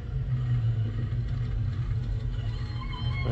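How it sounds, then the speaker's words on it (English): A hearse passing along Constitution Hill in London, heard as a steady low rumble of vehicle and crowd noise that stays even and close throughout, with no clear speech. "here comes the hearse now making its way"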